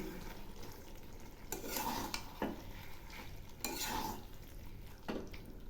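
Bean chachari curry, a Bengali vegetable dish with mustard paste, green chilli and ginger, being stirred in a pan, with scraping spoon strokes at a slow rhythm over a steady low sizzle, close and moderately quiet.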